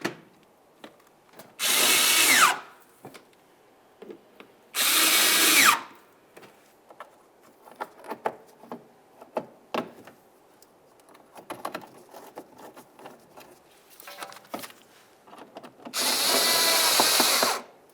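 A power drill snugs the inner fender liner screws on a 2005-2010 Dodge Dakota in three loud bursts of whirring, each lasting about a second, with quieter clicks and handling of parts between them.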